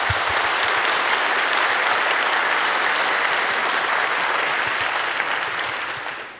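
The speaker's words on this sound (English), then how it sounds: "Please give them a warm round of applause." A large audience applauds steadily and loudly at a hacker conference, welcoming two speakers onto the stage; the dense clapping holds for several seconds, then begins to fade at the end, with no voices over it.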